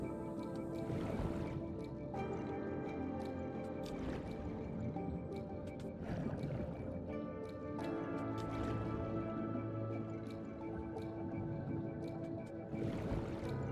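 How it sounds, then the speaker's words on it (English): A bubbling hole of water in the video game Paranormasight gives soft, steady bubbling and dripping over a quiet ambient backdrop, with faint water sounds throughout. "there's the bubbling hole there"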